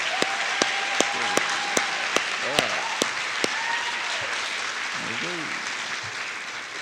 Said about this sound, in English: a quick round of applause here for our state final qualifiers